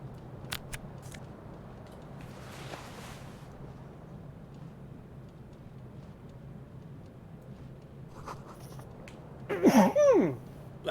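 A sneeze comes as one short, sharp burst near the end, over a quiet background hum with a few faint clicks before it.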